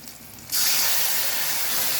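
Chilies fried in deep oil with black cumin paste added for a Bengali chili chorchori: a sudden loud, steady spray-like sizzle bursts in after a quiet half second and holds close and bright.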